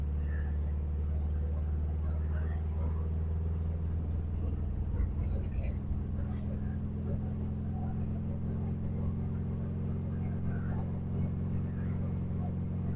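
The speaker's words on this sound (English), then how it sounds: "Just hit the gas and rolling." A 1971 Volkswagen Beetle Autostick pulling away from a stop in first gear, its steady low engine drone rising slightly as it accelerates, heard from inside the car.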